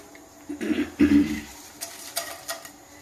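Curry leaves, dried red chillies and peanuts drop into a pan for pulihora, making a couple of close clattering knocks followed by lighter scattered rattles and faint sizzling.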